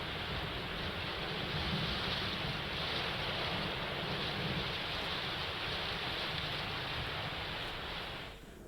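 Heavy monsoon rain pouring down steadily in Maharashtra, a dense continuous roar with wind, loud and unbroken before easing slightly at the end; no voices.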